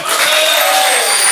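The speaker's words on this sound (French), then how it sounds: "On vous applaudit, bravo." Studio audience applause on a French TV talk show, a dense, steady wash of clapping with some cheering throughout, loud and close, with no clear break.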